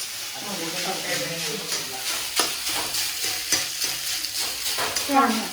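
A pan of food being stirred and sautéed in mustard oil, with continuous close sizzling and repeated scraping strokes of a utensil, fairly loud, while someone talks over it.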